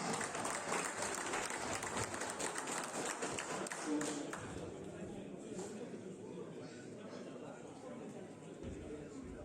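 Applause at a Warsaw district pigeon-fancier gathering for the marathon-category champion, a steady patter of many hands clapping close by for the whole stretch, with a crowd murmuring beneath and easing slightly toward the end.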